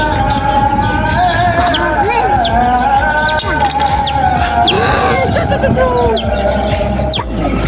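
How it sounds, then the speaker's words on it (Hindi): A chick chirps and clucks with rapid, high little peeps amid louder chicken calls, fairly close and continuous over several seconds, with background voices and noise underneath. "वाह आइमू का प्यारा चूजा।"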